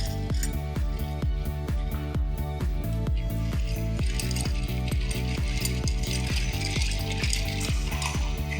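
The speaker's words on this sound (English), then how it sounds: "We're gonna give it a nice stir over ice." A Woodford bourbon Old Fashioned is stirred over ice, with ice cubes clinking against the glass in a steady, even rhythm of about twenty close, crisp knocks, heard alone without talk.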